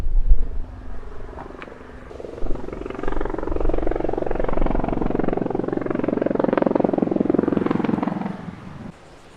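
An aircraft circles overhead on its approach to land, its low engine drone rising steadily, holding loud for several seconds, then cutting off at the end.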